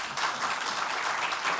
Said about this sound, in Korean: 우리 박수로 좀 이렇게 박수로 좀